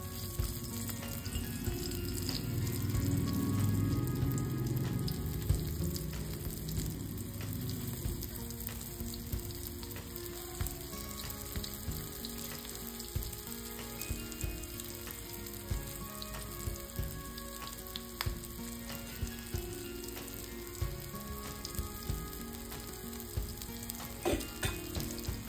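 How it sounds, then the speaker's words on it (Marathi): Mutton kheema vade, coated in flour, deep-fry in hot oil with a steady, dense sizzle and bubbling, punctuated by occasional light clicks of stirring or turning, with no talk. "हे वडे आपल्याला एकदम खरपूस तळून घ्यायचे"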